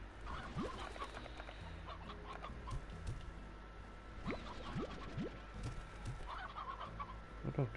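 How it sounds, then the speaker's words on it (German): Chickens in the video game Slime Rancher cluck and squawk in short, repeated bursts at a modest distance, over a quiet ambient background with no talk. "Auch noch ein kleines Huhn drin."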